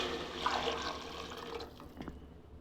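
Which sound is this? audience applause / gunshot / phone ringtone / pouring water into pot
pouring water into pot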